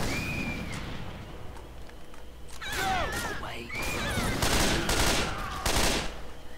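Rapid game gunfire from shooting the witch in Left 4 Dead 2, with several sharp shots bursting loudly in quick succession over dense in-game effects and creature squeals.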